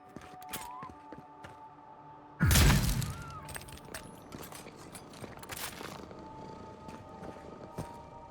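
A character in the video game Avowed makes a low, rough purring or snoring rumble under scattered game noises, with a loud sudden crash partway through and small clicks and footsteps around it.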